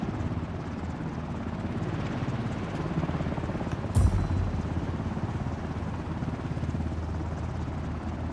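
A helicopter flies overhead in the video game Ring of Elysium, giving a steady, droning rotor rumble that holds at an even level for the whole stretch with no talk over it.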